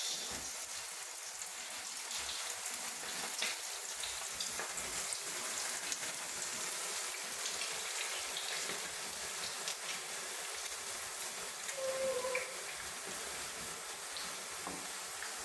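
Meatballs sizzle and crackle steadily in olive oil in a shallow casserole, a continuous close frying hiss with scattered pops and no talking.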